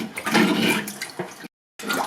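A flathead fish is scaled with a scaler while held under water, producing continuous rushing, sloshing water noise with scraping bursts, broken by a brief silent gap before resuming.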